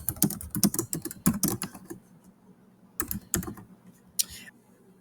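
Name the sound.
typing on a computer keyboard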